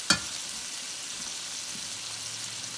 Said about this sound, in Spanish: Vamos a sofreírlo a fuego medio bajo hasta que nuestra cebollita comience a cristalizar